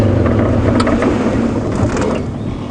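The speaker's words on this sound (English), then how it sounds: "with the sound of the engine" Safari game drive vehicle at Djuma Game Reserve with its engine running, a steady low rumble and drone close to the microphone, with faint wind and rattles and no talking.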